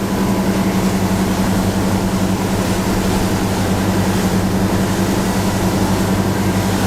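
A deep V boat engine runs at just under 3,000 rpm, cruising near 20 knots on windy, bumpy water: a loud, steady droning rumble with no letup.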